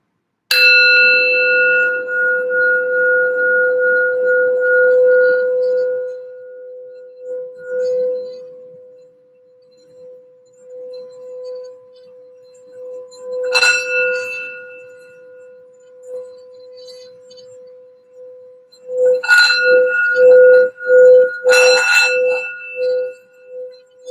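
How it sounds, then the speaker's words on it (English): A resonant bell rings and hums with a long sustained tone, fading slowly, then is struck again several times, bright clear strikes ringing out alone. "we're going to do a quick sound bell for some general healing and grounding for the reading"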